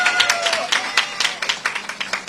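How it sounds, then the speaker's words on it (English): Applause from a campaign crowd in New York's Chinatown, a burst of many overlapping claps that carries on steadily and fairly close, without speech. "Let's give a round of applause for Wade Lee."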